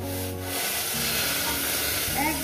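Boiling water poured into a sizzling katla fish curry sets off a loud, dense hiss and bubbling that rises and falls unevenly, close up, with no voices.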